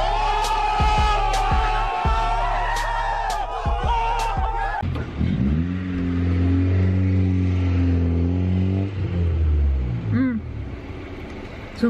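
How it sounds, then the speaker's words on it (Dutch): Engine of a Suzuki car revving hard with rising and falling pitch through several gear changes, then dropping to a deep rumbling idle that swells again, close and loud, with people talking over it. "Zo'n keigoed geluid voor een auto, hè?"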